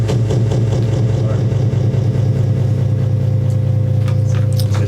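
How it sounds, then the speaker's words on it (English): A truck engine idles loud and steady with a deep low rumble and an even rhythmic chug, droning unbroken from start to end as people talk faintly over it. "Is that what the truck's going to sound like?"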